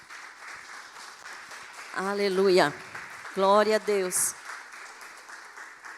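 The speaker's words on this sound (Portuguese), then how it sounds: "Vamos aplaudir ao Senhor, queridos." Church congregation clapping in praise, a soft, steady patter of applause under a woman's spoken exclamations that rise loudly over it midway.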